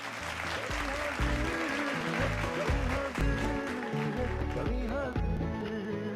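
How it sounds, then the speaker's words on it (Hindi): Loud, continuous applause from a large audience at a poetry program, filling the whole stretch with dense clapping over lingering music. "जोरदार तालियों से इस्तकबाल कीजिए"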